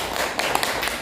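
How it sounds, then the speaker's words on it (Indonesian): Brief burst of applause from students in a classroom during a micro-teaching lesson, a dense wash of clapping heard at moderate loudness. "Tepuk tangan untuk"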